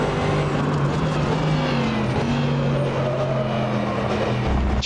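Race car engine roars steadily in the rFactor 2 sim racing game, loud and continuous, with pitch shifting as the car brakes late into a corner.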